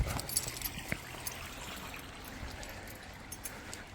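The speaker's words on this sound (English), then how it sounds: "Bit of water in the bucket first." Water splashes and pours steadily into a container, a broadband rushing wash with a few small clanks near the start, moderately close.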